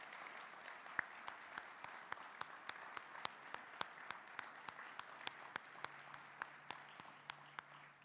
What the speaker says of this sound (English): Would you please join me in a round of applause for the 338th U.S. Army Band for their contributions today.